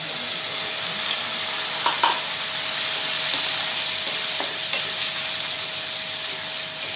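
Onion, ginger, garlic and green chilli paste sautéing on low flame in a pan for a Mughlai chicken curry, a steady close sizzle with a few brief clacks of stirring.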